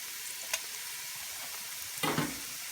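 Ivy gourd frying in oil with turmeric and chilli powder is stirred, a soft steady sizzle with two brief scraping strokes of the spoon, fairly quiet and without voices.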